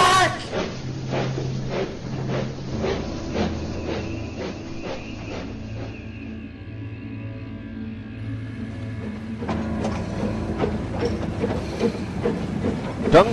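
Duncan, a small steam engine, reverses his train back toward a water tower: a steady rolling rumble with rhythmic clickety-clack wheel beats, easing slightly midway before the clatter picks up again.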